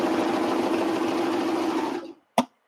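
A serger sewing machine runs at speed, a rapid buzzing whir that stops abruptly, followed by a single sharp click and the start of another.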